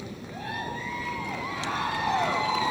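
An excited crowd cheers and shouts at a dog show during herding group judging, rising in rising swells of whoops and high-pitched voices, loud and building toward the end.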